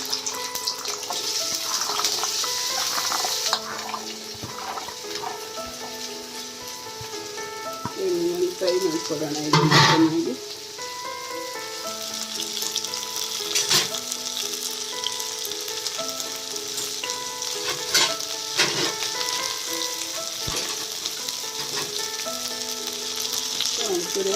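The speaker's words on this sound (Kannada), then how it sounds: "ನಾನು ಬೆಂಡೆಕಾಯಿ ಹಾಕ್ಕೊಳ್ತಾ ಇದ್ದೀನಿ ಬರೀ ಹಾಗೆ ಹುರ್ಕೊಳ್ಳೋದಿಕ್ಕಿದೆ" Sliced okra fries in about four spoons of oil, giving a continuous moderate sizzle with occasional stirring scrapes and a louder flare midway, while someone speaks now and then.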